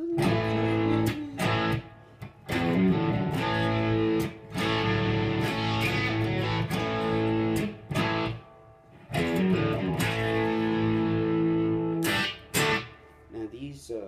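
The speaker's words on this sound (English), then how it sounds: "Now these open chords, they call them cowboy chords or open chords, they sound really great with the distortion." An electric guitar strums open cowboy chords through heavy distortion, a thick sustained crunch ringing for long stretches, broken by brief pauses and sharp pick attacks.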